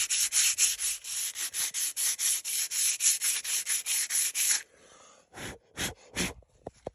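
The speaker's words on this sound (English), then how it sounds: "We just go over it with some light grit sandpaper" A South Bend lathe bed sanded by hand with light-grit sandpaper: quick, rhythmic back-and-forth rasping strokes, close and even, then a pause and a few slower, scattered strokes.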